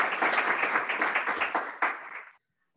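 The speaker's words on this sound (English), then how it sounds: "Let's give her a big round of applause." An audience at a startup showcase gives a short round of applause, a burst of many hands clapping that holds for about two seconds and then cuts off into silence.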